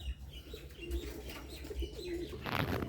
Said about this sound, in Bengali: চালের উপরে সব কবুতর যা ডাকাডাকি শুরু করছে